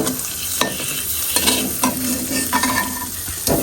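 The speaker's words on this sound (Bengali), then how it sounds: "আমি হচ্ছে শুধু চিকেনটা হালকা করে ভেজে নিলাম" Chicken sizzles in a hot pan, with several scraping stirs and clinks of a utensil over a steady frying hiss.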